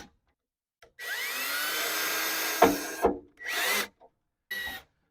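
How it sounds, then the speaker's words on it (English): A power drill whirs in several bursts, one long sustained run followed by shorter pulses, while driving screws into plastic blind nuts on a tailgate table for a Jeep JK 2-door. The bursts are separated by clicks and brief silences. "I'm just using the drill to get it started"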